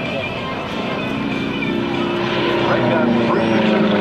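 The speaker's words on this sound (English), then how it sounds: "Radial engine, this 9-cylinder engine, is geared." Aerobatic airplane with a geared 9-cylinder radial engine performing at an airshow, a steady droning engine roar held throughout and swelling slightly louder toward the end, with someone talking over it.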